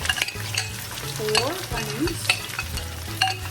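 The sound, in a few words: onions sautéing in a pan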